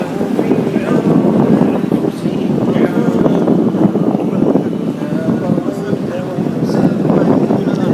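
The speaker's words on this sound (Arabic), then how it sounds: "ايش رايك في هبات الريح؟" Strong wind on the Farasan Islands buffets the microphone in a constant loud roar, with gusty rumbling swells and faint sea noise beneath.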